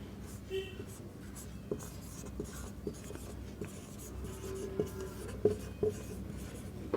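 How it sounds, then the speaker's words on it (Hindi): Pen scratching on paper, faint and close, with soft irregular strokes and taps under someone speaking Hindi during a lesson. "लिखते हैं इसको।"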